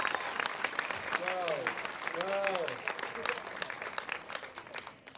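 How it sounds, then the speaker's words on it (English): A crowd claps steadily at a high school graduation ceremony, with voices calling out over the applause, which thins toward the end. "Can we give them a big round of applause, please?"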